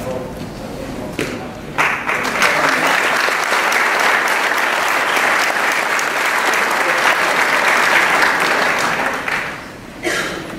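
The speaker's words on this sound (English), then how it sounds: "that applause is okay" Applause at a board meeting rises sharply and holds as a dense, steady wash of clapping for about eight seconds before tapering off, loud and fairly close, with brief voices at the edges.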